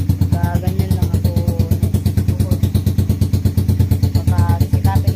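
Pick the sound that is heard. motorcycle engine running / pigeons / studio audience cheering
motorcycle engine running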